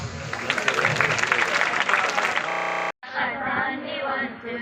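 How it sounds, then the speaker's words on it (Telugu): Crowd clapping at an outdoor village celebration, loud and dense for a couple of seconds before an abrupt cut, after which a voice talks over a quieter background. "give a claps"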